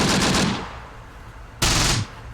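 Machine-gun fire from an MG team in the World War II strategy game Close Combat: The Bloody First, with two loud bursts, one at the start and a second near the end, separated by a quieter lull.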